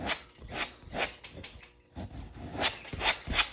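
A palette knife scrapes paint across an inexpensive canvas, giving repeated rasping strokes in uneven bursts, close and fairly loud, with no voices.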